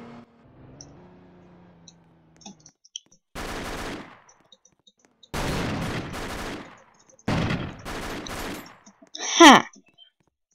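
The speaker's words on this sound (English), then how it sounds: "I shot him." Guns fire in the Roblox game ER:LC (Emergency Response: Liberty County) as a criminal shoots at cars and a player. Several separate bursts of rapid automatic gunfire come loud and close, split by short quiet gaps.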